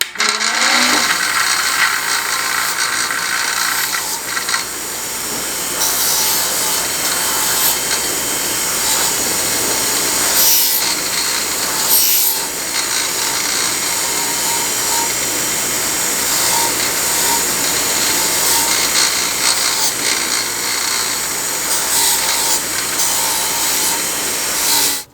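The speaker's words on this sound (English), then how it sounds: "I'm getting tired of working with all that gunk on there, so let's go ahead and strip that off" A rotary tool or wheel grinds steadily at old gunk on a Buck 112 knife, a loud continuous whirring rasp running almost unbroken for the whole stretch, with slight changes in pitch and no talk.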